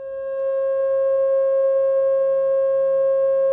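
A 540 hertz pure tone swells in over the first half second and then holds perfectly steady and loud, a single unwavering electronic hum with no other sounds.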